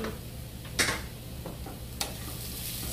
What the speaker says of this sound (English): Just stir that in as well. Stir and let it cook